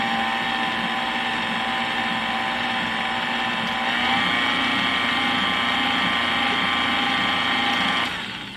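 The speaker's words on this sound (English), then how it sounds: "I'm not taking a long time to mix because we don't want to overwork the batter" An electric mixer beating maple pound cake batter runs as a steady, loud motor whine, with its pitch shifting slightly midway before winding down at the end; nobody speaks.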